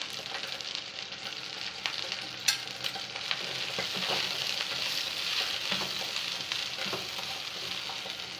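Moringa leaves with a little salt and turmeric frying in a pan, a steady close sizzle and crackle running throughout with occasional sharper pops and light stirring scrapes.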